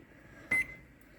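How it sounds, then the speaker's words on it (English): A kitchen timer gives a single short electronic beep right after being set, a clear tone cutting briefly through a quiet room. "And now I'm gonna press kitchen timer for 30 minutes."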